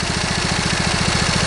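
A lawn tractor engine runs steadily up close, its even pulsing thrum carrying a slight irregular miss in the rhythm.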